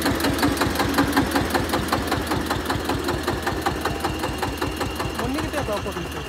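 A tractor engine runs steadily with a regular, rhythmic chugging throb that stays loud and constant throughout, and faint voices may sit underneath.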